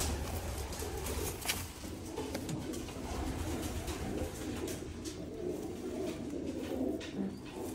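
A pair of pure Jaldar pigeons in a loft coos steadily over a constant, noisy room background, with soft, repeated calls and no talking.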